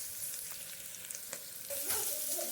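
Chopped tomatoes sizzling in oil in a tempering pan for a South Indian coconut curry, a close steady crackling hiss with a few small pops and stirring taps that swell louder near the end.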